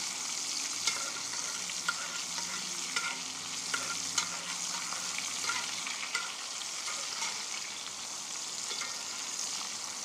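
Apple and bacon wrapped venison backstrap sizzles steadily in a cast iron pan on an outdoor grill, a constant bright frying hiss with occasional small pops and scrapes, no talking.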